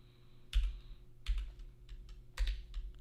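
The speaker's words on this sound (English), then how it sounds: "be nice if I could quit hitting the wrong keys" Keys on a computer keyboard are struck in three short bursts of quick clicks and thumps, close and fairly quiet, with brief pauses in between.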